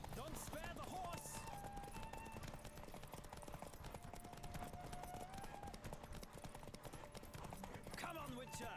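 A horse gallops in The Witcher 3 video game, its rapid clip-clop hoofbeats running under game music and a player talking, fairly faint in the mix.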